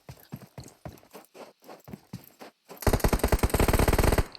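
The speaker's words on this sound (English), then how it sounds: "Trying to shoot through the smoke, hope for a hit." Rapid automatic gunfire in the mobile battle-royale game PUBG Mobile during a pro scrim, a loud dense burst of shots in the second half after quieter scattered sounds.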